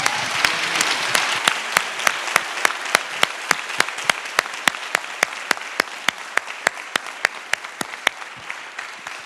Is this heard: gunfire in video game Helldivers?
no